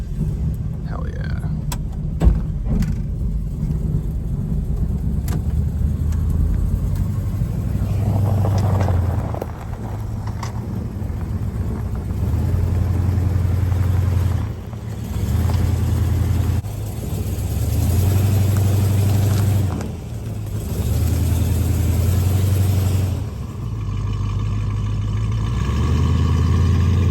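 A 1971 Dodge Super Bee on its first road test in 35 years, engine droning steadily as it cruises with repeated swells of revving, heard from inside the car amid road and wind noise.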